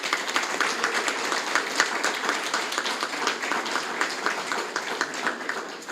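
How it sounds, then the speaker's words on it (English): Sustained round of applause from an audience at a law lecture, dense, even clapping at moderate loudness lasting throughout with no talk over it. "I now ask that we raise our hands in a round of applause for Lord Reid of Alimure."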